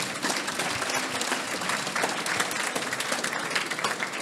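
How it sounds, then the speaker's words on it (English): Guests at a wedding reception applaud, a dense and steady wash of clapping that continues evenly throughout. "All right, big round of applause for Tim,"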